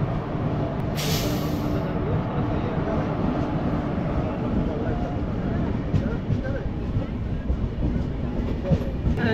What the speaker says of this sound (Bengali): চাকুলিয়া স্টেশন থেকে 1 মিনিটের মধ্যে কিন্তু আমাদের ট্রেন ছেড়ে দিল